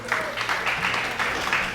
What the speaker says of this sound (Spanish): dense un aplauso a ustedes.